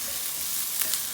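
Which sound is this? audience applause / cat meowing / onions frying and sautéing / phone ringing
onions frying and sautéing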